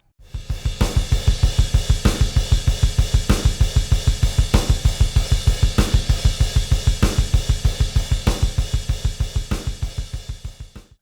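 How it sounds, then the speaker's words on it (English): A fast, relentless programmed black metal drum beat with rapid double-kick pulses and steady cymbal crashes, loud and mechanical, with no voices. "Our drums look and sound like this so far."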